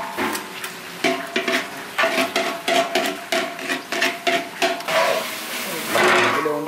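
Mutton being stirred in a pot on a stove by a wedding caterer cook: repeated metallic scraping and clanking of a spoon against the pot in an irregular rhythm, with a faint sizzle underneath, close and loud.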